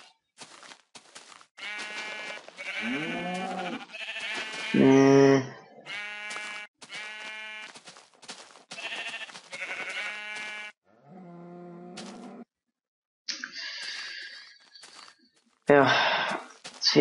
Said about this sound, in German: Oh, Schafe.